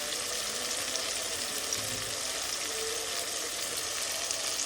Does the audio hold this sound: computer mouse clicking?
no